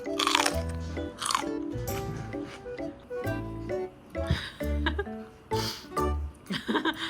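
Someone bites and chews a fresh chili pepper near the microphone, giving repeated loud, wet crunches in irregular bursts, with light laughter and a few short voice sounds between them.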